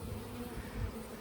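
Honeybees hum steadily around an open top bar hive being split, a soft, continuous buzzing drone at close range with no voices.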